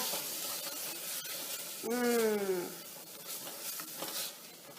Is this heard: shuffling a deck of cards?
no